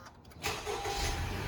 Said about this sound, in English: start the car